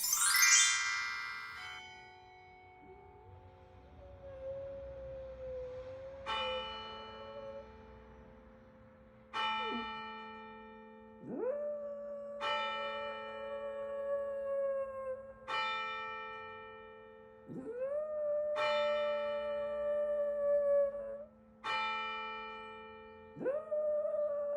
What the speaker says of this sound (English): Carillon bells when they were ringing at church